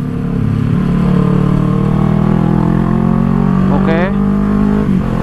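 A Kawasaki Z650 600 cc parallel-twin motorcycle pulls hard in third gear, its engine drone loud and close throughout, with a quick rev change near the end and brief talk over it.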